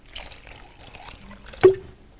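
Cold water pours briefly onto okra in a kitchen, a short trickle followed by a single louder splash, with faint background noise before it.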